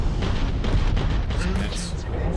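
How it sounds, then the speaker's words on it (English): Particle weapons firing during a space combat battle in the video game Starfield, a loud rumbling barrage of booming bursts and crackles rolling continuously, with a voice talking over it. "Oh, they've got particle weapons."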